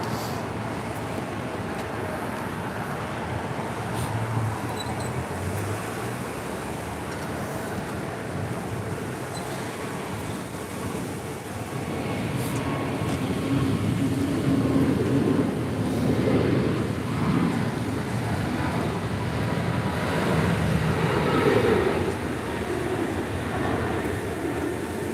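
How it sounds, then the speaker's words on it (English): American Airlines Airbus A321neo departing LAX for Lihue, a broad steady jet roar with wind buffeting, swelling louder in the second half as the aircraft climbs out. "That is American 265 departing to Lihue on an A321 Neo."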